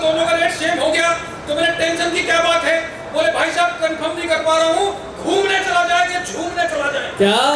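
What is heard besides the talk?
None of the usual background noises is heard.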